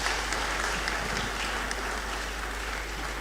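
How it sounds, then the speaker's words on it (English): Dense, steady applause from a lecture audience at a memorial lecture fills the hall for a few seconds, loud and continuous with no voices over it. "Please, one more time, a round of applause."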